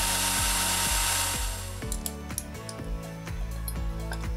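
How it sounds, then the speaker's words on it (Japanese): A power drill bores into the head of a broken bolt on a Kawasaki Zephyr 750 engine, a loud whine at first, then a repeated rhythmic grinding chatter as the bit bites into the metal, close by with no talking. "頭の部分をドリルで削り取ってしまう作業です。"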